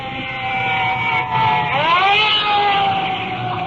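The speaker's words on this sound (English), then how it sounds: "they can hear their sirens" Fire truck sirens wailing nearby, a steady pitched tone that swoops down and rises again over low engine rumble, loud and continuous.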